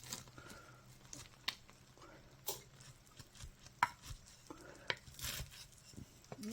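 Crisp crunching and scraping as a spatula cuts into a crispy, fried-cheese bacon cheeseburger pie, in short irregular bursts with faint taps against a pan.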